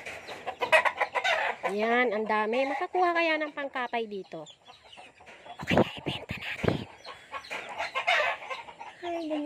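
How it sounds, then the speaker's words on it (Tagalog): Chickens cluck and a rooster gives a long crow nearby on a rural Philippine property, loud and close, while someone talks over parts of it. "Yan, manok, manok, puro manok."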